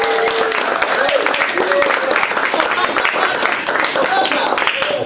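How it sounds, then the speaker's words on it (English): Audience applause and cheering at a university conference session, a dense continuous wash of clapping filling the whole stretch with excited voices mixed in. "Could we have a big round of applause for her?"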